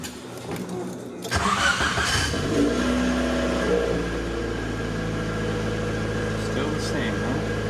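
A 1991 Honda CRX Si running a stock OBD1 P30 ECU and showing a knock sensor fault cranks briefly, catches with a loud close burst, then settles into a steady idle hum.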